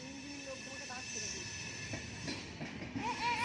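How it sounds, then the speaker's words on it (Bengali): A train runs past near Santragachi station, a steady rumble with faint rail squeal that grows louder toward the end, while an adult talks nearby. "ট্রেন যাচ্ছে দেখো,"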